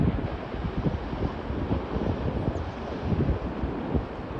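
Wind buffeting the microphone over a steady roar of ocean waves on the Pornichet seafront, continuous and close, with no talking.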